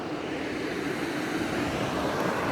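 Davie River rushing below a railway crossing, a steady broadband hiss of flowing water heard from above at some distance, constant and even throughout with no talk.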